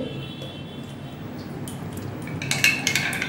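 A spoon clinks steadily against a glass while stirring a sharbat drink with pepper powder and mint, a continuous close swirl with brighter metallic taps near the end and no talk.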